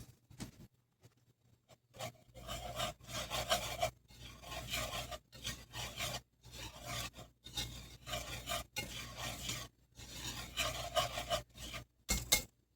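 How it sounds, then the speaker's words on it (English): Whisk scraping and rasping through dry cookie dough ingredients in a bowl, made in quick bursts of steady strokes with short pauses between them, close and fairly quiet, with no voices. "Now it says, whisk them together and set it aside. So let's whisk it together."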